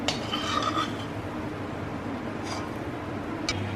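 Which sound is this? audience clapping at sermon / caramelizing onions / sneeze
caramelizing onions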